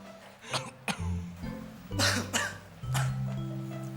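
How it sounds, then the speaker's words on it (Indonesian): Several sharp coughs from a persistent cough break up the clip, mixed with a throat-clear and some muffled voiced sounds in Indonesian, fairly close and moderately loud. "Kok batuk saya nggak sembuh-sembuh?"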